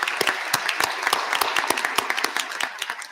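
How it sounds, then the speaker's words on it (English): Applause from a convocation audience for graduates' families and friends, a steady wash of many hands clapping with sharp individual claps standing out throughout, fairly close and sustained. "Give them a big round of applause for their encouragement and guidance"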